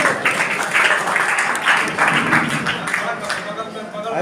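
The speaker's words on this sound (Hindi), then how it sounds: "एक बार जोरदार ताली बजाइए आप लोग" An audience at a prize-giving ceremony for a general knowledge competition claps in a dense, sustained wash of applause, loud and steady throughout.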